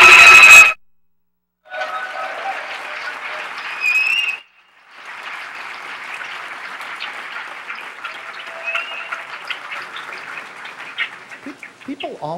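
Audience applause at a keynote address for a hacker conference, a broad steady clapping wash lasting most of several seconds after a brief loud burst, with a short pause and chirpy bits near the end.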